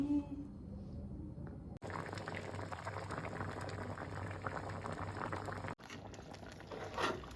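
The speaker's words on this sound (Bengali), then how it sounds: "এই যে মিষ্টি মিষ্টি ডাল সেদ্ধ হয়ে গেছে।" Sweet dal bubbles gently in a pot on the stove, a faint steady boiling patter with a couple of brief breaks and a louder bubble near the end.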